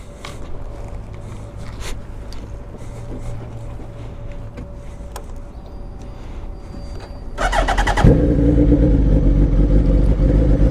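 A clean motorcycle with aftermarket exhaust and 13,000 miles sits idling quietly with faint clicks, then its engine fires up abruptly near the end and settles into a loud, rough, close-up running rumble.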